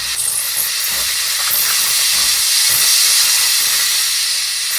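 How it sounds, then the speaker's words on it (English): A Breville Bambino espresso machine's steam wand lets out a loud, continuous hiss, bright and airy, holding steady for several seconds with no talking. "you press the steam button"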